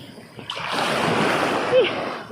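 Water splashes at night as someone swims in the rain, a broad, close wash of splashing that swells briefly near the end, with faint voices in the background.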